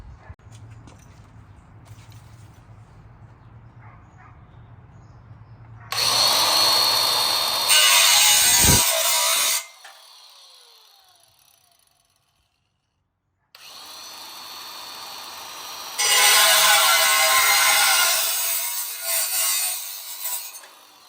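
A power tool trims the brake dust shield on a Toyota Tacoma during a Stoptech big brake kit install, running in two loud, harsh cutting bursts separated by a short silent pause.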